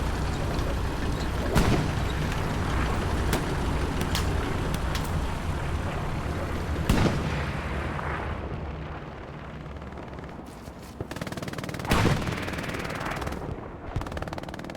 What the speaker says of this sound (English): They heard the cannon, they heard the rapid fire